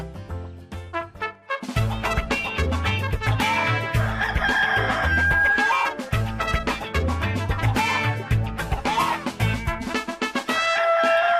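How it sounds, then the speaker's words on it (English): A cockerel crows repeatedly as a wake-up call over a loud, busy musical backing, each call rising and falling, with the music continuing throughout. "here comes the wake-up call from Lester the cockerel"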